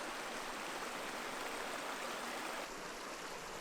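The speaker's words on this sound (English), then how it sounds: "the water is dropping from the" Water pours and splashes down continuously from rocks in a cave near Sumidero Canyon, Mexico, a loud, dense, steady rush with no separate drips standing out.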